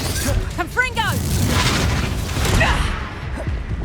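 A Confringo blasting spell explodes in Hogwarts Legacy, a loud booming blast with a whooshing tail that fades out after a few seconds, layered over battle noise.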